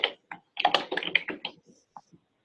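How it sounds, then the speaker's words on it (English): Typing on a computer keyboard comes through a call line as quick irregular clicks and taps in short bursts, close and moderately loud, with no talk over it. "I hear some typing."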